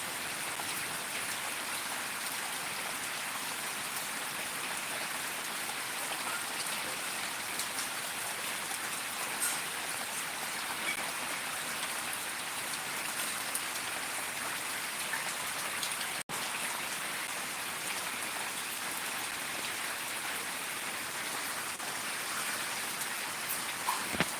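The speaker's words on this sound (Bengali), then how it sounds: "এতটাই বৃষ্টি হচ্ছে যে" Heavy rain falls steadily around a house with floodwater surrounding it, an even, unbroken hiss of downpour lasting throughout, with one sharp click partway through.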